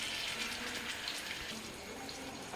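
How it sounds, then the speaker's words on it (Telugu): Water runs and splashes steadily into a pan of vegetable Manchurian paste, a soft continuous pour heard faintly and alone. "నీళ్ళని కూడా ఇందులో వేసేసేయండి"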